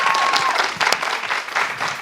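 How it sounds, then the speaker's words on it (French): An audience claps in a dense, steady burst of applause at a live show, close and lively, with a few faint voices mixed in. "Ici, on applaudit pour ça déjà."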